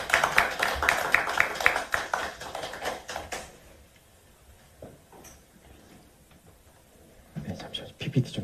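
Audience applause at a National Assembly meeting, a burst of many hands clapping for about three seconds that fades into quiet room noise with scattered taps and shuffles, then some brief clapping or movement returns near the end.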